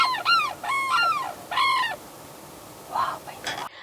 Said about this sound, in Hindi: इधर तो सारस है ही, उस तरफ जो है वहाँ से अभी इतनी सारी उनकी बोलने की आवाज़ आ रही है।